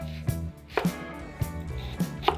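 A knife chops a peeled, halved shallot on a cutting board, giving several close, crisp taps at an uneven rhythm, each a short sharp knock against the board.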